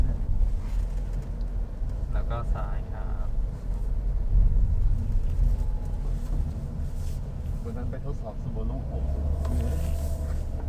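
Engine and road rumble from a Toyota Veloz MPV, the top trim, driving and accelerating around 50–55 km/h, a steady low drone heard from inside the cabin with people talking over it.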